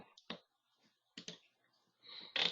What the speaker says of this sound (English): I'm just going to click print area, and I'm going to click clear print area.